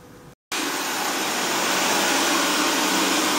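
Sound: Xiaomi Mi Robot Vacuum Mop 2S robot vacuum cleaning floor

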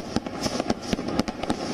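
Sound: fireworks at the Golden Temple

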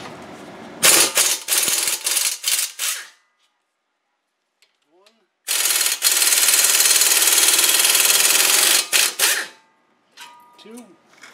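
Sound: wrench removing Mini Cooper brake caliper bracket bolts

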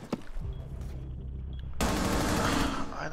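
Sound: gunfire shooting through a wall in Rainbow Six Siege video game

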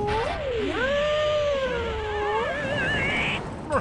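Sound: cat meowing

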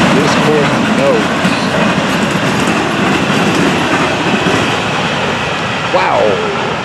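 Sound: FEC210 freight train passing crossing

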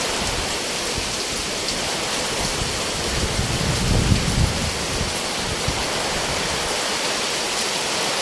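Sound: heavy rain

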